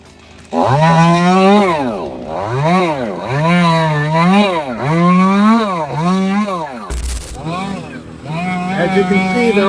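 A loud chainsaw revs up and down repeatedly in rising and falling bursts, cutting tree limbs close by during a tree removal, with a sharp crack partway through.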